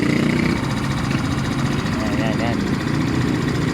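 Idling Yamaha Mio i125 motorcycle engine bored to 160cc with a 59mm bore and 5.6 cam: a steady, quiet, close chugging hum that runs under brief speech.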